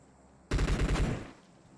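Burst of rapid automatic gunfire from the battle royale game PUBG, a loud, dense volley of several quick shots lasting under a second before fading into quiet.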